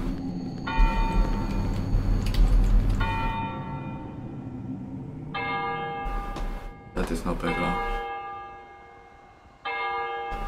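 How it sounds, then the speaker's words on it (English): Tolling bell in the horror game Cry of Fear, repeated bright ringing strikes with long resonant decay against a low ambient drone, while someone speaks briefly over it. "It sounds like ringing a bell before hanging someone."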